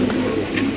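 A male pigeon coos close by, a short low throaty call that rises briefly and repeats once within a single breath, loud and clear with no talking.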